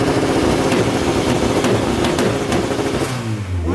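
A K-swapped car engine revs hard and loud up close, holding a high whine, then the pitch falls away as it eases off the throttle.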